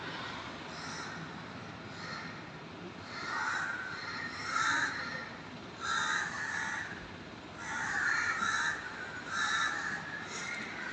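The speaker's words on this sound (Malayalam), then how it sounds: "ഞാൻ അടുക്കളയിൽ നിന്നുകൊണ്ട് കാക്കകളുടെയും ഇല്ല കിളികളുടെയൊക്കെ സൗണ്ട് കേൾക്കുന്നുണ്ട്" Several crows caw repeatedly outside a home kitchen, in bursts of harsh calls that come and go at a moderate distance over a quiet background.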